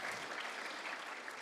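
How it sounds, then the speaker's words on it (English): Applause from an audience at an opening ceremony, a brief, faint, even wash of distant clapping with no pauses. "You can applause."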